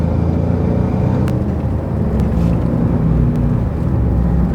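A Porsche Cayenne Turbo S engine pulls under acceleration as a loud, steady, continuous drone with low rumble, heard from inside the cabin without speech.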